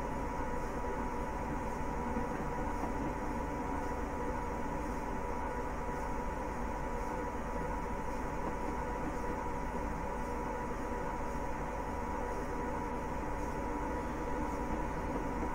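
A Class 87 electric locomotive runs in Train Simulator Classic, producing a steady, even cab rumble with a broad hiss and a low hum that hold constant throughout, with no one speaking.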